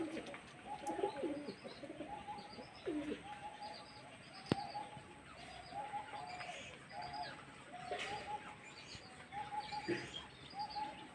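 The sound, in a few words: pigeons flying up and cooing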